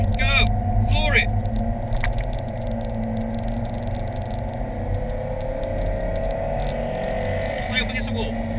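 A car at full throttle on the Rockingham track, its engine holding a steady, loud, near drone throughout, with a voice speaking over it at moments.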